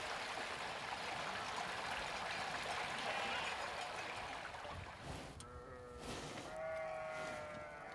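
Sheep in a drought-stricken rural landscape bleat several times near the end, with clear wavering calls rising over a steady rushing background of wind or flowing water that fills the whole stretch.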